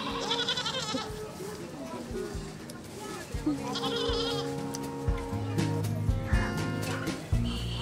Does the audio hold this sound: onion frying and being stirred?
no